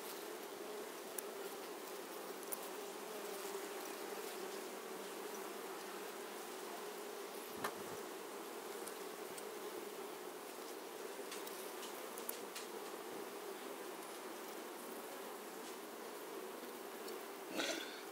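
A honeybee swarm taken from a bait trap hums inside a hive, a dense continuous buzz of many bees, steady and fairly close, with a few sharp ticks and knocks over it.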